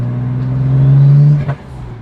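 A BMW 135i built into a 1M clone accelerates in boost, its exhaust droning loud and close with a steady tone that swells, then breaks off briefly with a shift.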